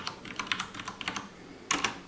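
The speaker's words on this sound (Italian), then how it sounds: "e digitare gli altri tasti" Typing on a Cooler Master Quick Fire XTi mechanical keyboard makes a brisk run of crisp, close clicking keystrokes, then a short pause and a louder cluster of key presses near the end.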